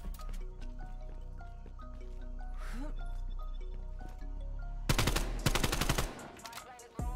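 Call of Duty gunfire from an AK74U: a short, dense burst of loud, rapid automatic shots near the end, after a stretch of quieter game ambience and tones.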